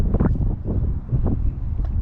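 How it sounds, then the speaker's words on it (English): Wind gusting over a kayak on a pond, a low buffeting rumble against the microphone that swells and eases in uneven pulses, near and fairly loud. "Now it's just the wind carrying me."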